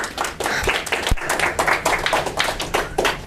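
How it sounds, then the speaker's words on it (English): An audience at a business forum applauds to welcome a guest speaker, a steady wash of many hands clapping with a few sharper individual claps standing out. "you can give him a round of applause"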